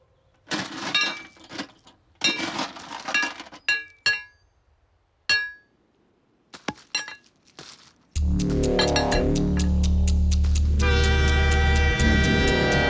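A train approaches on railway tracks, first as scattered clinks and metallic taps, then as a loud, sustained rumble with a strong horn-like tone that fills the final seconds.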